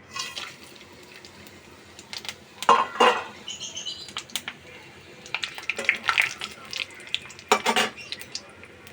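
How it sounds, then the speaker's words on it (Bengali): Whole spices, including cinnamon, cardamom, panch phoron and a bay leaf, crackle in hot oil in a pan. A utensil gives clattering scrapes in several loud bursts over a soft background hiss, all close by. "তেল গরম হয়ে গেছে। ফোড়নে দেব এখানে আছে 5 ফোড়ন, এলাচ,"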